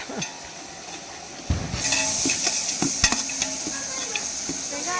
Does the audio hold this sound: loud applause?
no